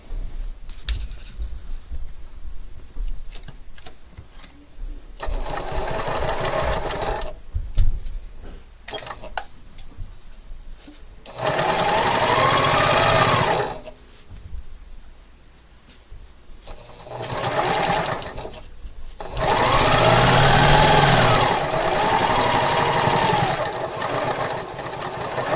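A sewing machine stitches quilt pieces in several loud, fast, whirring bursts, separated by quieter stretches of clicks and handling noises, heard close with no talk over it.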